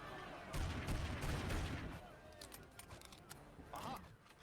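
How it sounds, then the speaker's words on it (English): Cannons fire at ships in the video game Family Guy Back to the Multiverse, booming blasts and rumbling impacts that are loudest early and then fade to scattered thuds, with a voice talking over them. "we have to shoot these cannons to destroy these ships"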